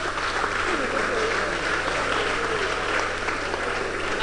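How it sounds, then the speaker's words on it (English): A Christian youth forum audience claps for a contestant in the final round of a contest, a continuous, even spread of applause with a steady low hum underneath. "Please clap for Enefio Kudo."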